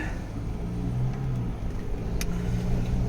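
A car driving along the edge of a soybean field after rain, its engine a steady low rumble with mild rises in revs, close and continuous with no talking.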